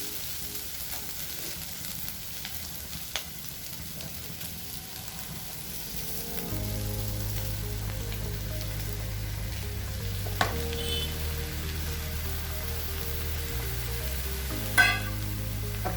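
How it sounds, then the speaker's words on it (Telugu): Ridge gourd pieces hitting a pan of frying prawns, a continuous sizzle that grows louder and fuller partway through, with occasional sharp stirring clinks and scrapes close by, no talking. "ఇంకా బీరకాయ వేస్తున్నాను"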